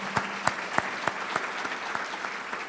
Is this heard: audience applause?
yes